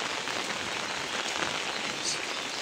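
Rain falls hard during a storm with wind, a dense, continuous hiss of drops pattering on surfaces at steady volume with no voices.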